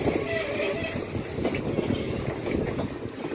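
A train with a caboose at the back rolls past outdoors on a windy fall day, a steady rumbling clatter of wheels and cars at moderate distance, with wind buffeting the microphone.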